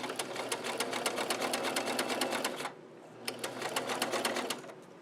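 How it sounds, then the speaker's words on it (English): A sewing machine stitches an invisible zipper, its needle hammering in a fast, even rhythm, pausing briefly, then running again in a shorter burst, close and clear with no talk. "And now I'm going to sew, and I've lined my teeth up on my stitching line."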